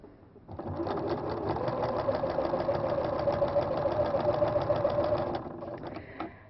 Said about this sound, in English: we're going to sew this all the way down with a 1/4 inch seam allowance